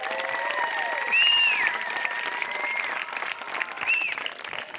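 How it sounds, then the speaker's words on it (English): Wedding guests applauding newlyweds at a reception, a steady burst of clapping from a moderate crowd with a few whistles and cheers, fairly even throughout. "Big round of applause for the newly wedded DeRossetts."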